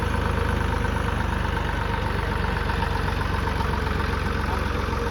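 A farm tractor's diesel engine idles steadily on a dairy farm, a low continuous rumble with even throb, loud and close, holding constant throughout with no voices.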